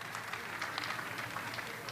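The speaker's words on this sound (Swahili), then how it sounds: "Pigieni makofi." Audience applause at a UNC TV event, a dense, steady patter of many hands clapping at moderate distance for a couple of seconds, with faint crowd noise underneath.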